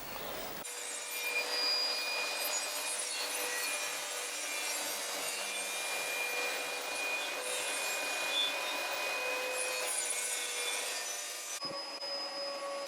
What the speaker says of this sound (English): I made the first cut on some 18mm plywood scraps